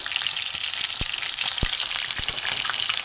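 Bata fish chops fry in hot oil until crisp, with a steady, loud crackling sizzle, broken by a few dull knocks of a utensil.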